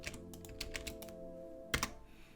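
Fingers type on a computer keyboard in Command Prompt, quiet irregular clusters of keystrokes with short pauses and one firmer burst near the end.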